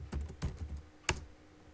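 Code being typed on a computer keyboard: a few quick close keystrokes in a short burst, a pause, then one sharper louder key press, with no talk.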